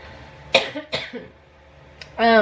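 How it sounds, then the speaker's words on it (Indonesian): A person coughs twice, sharp and close, with a small throat sound after, then a brief tonal vocal sound at the end. "Batuk aja, maaf ya"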